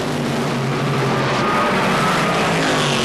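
A 1977 NHRA Summernationals drag racer launching off the line with its tires spinning and hazing, a loud, continuous engine roar with broad noise that stays steady throughout.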